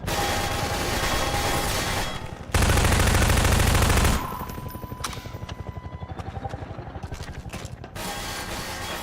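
Bursts of rapid machine-gun fire in the video game Half-Life 2 alternating with louder sustained blasts and scattered single shots, dense and close throughout.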